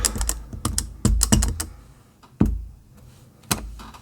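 Rubber stamps from old stamp sets are pressed onto paper in a masking craft session, giving a string of sharp, close thumps and taps, some in quick clusters and others spaced apart, with short pauses between.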